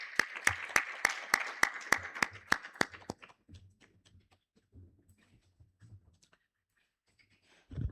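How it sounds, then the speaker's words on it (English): A single person claps about a dozen times in a fast, even rhythm, sharp and close, as a speaker at a health summit calls for applause; then quiet shuffling and faint movement follow. "let's clap for Doreen as she comes on the stage"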